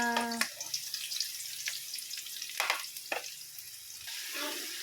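Bitter gourd slices frying in hot oil give a soft, continuous sizzle with intermittent crackles and stirring scrapes, moderately close and without talk.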